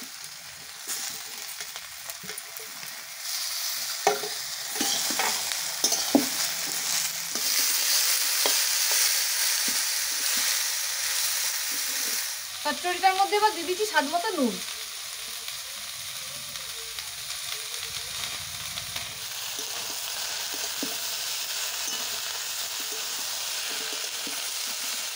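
Beans and cabbage stems stir-frying with other vegetables in a pan for a village-style chorchori, a steady close sizzle with scraping stirs, while a person speaks over the cooking.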